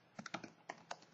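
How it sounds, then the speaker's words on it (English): Keystrokes on a computer keyboard while typing into a web browser, about eight quick irregular taps in a short burst, close and fairly quiet with no talking. "And now if I type into the browser"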